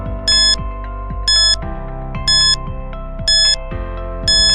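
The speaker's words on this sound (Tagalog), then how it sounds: "Timer starts now." A quiz countdown timer ticks along steadily, with five evenly spaced bright electronic beeps roughly once a second over a low pulsing bed, loud and alone with no talking.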